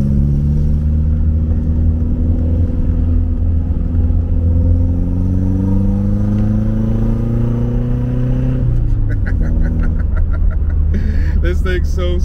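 A Mercedes W201 car under way, its engine droning steadily from inside the cabin and rising slowly in pitch as it accelerates, then dropping after a shift, with rattling and a voice near the end.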